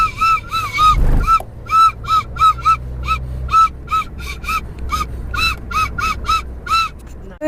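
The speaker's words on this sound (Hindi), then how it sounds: "पंछी बांसुरी बजा के बताओ।" A bird-call whistle toy is played inside a car, giving a long run of sharp, squawking caw-like toots in quick repeated bursts, loud and close, over the low rumble of the moving vehicle.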